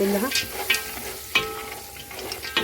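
Mixed nuts and pistachios being stirred in a hot pan, a spoon scraping and clattering in irregular strokes over a light sizzle, close and moderately loud.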